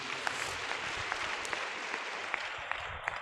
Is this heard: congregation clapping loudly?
yes